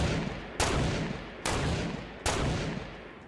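Gunfire in Fortnite: four loud, sharp shots spaced unevenly about a second apart, each trailing off into a reverberant decay, with no talking.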